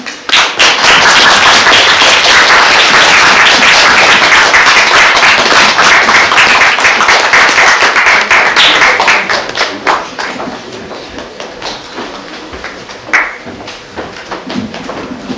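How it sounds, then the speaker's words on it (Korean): A cinema-talk audience for the film 이장 (Ijang) claps loudly as the actors come forward, a dense burst that thins after about nine seconds into scattered, fading claps. "앞으로 나오시면 큰 박수 부탁드릴게요"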